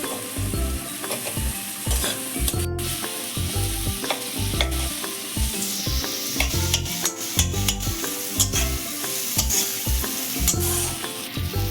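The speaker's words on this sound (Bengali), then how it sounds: "এবার আমরা নাড়িয়ে দিচ্ছি সবগুলোকে একসাথে" A spoon steadily scrapes and stirs chili powder, cumin powder and a little sugar in a sizzling frying pan for pabda fish curry, with loud, rhythmic clatter and continuous frying hiss up close.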